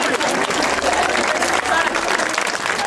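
A crowd at an outdoor religious gathering for a Marian shrine applauds Padre Pillitelli, loud, close, continuous clapping with voices mixed in.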